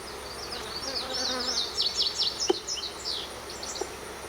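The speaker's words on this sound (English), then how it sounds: "you're not freaked out by the bees, and they're really pretty good, calm" Dense, steady buzzing of many honey bees around a hive during an inspection, continuous and fairly close, with high faint chirps scattered above and one brief sharp click midway.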